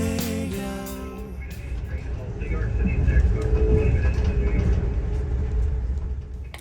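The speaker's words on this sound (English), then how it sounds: "I took the train into New York City" Train ride into New York City's Penn Station: a steady low rumble of rail cars rolling along, rising slightly in the middle, with an announcement-like tonal voice early and continuous carriage noise throughout.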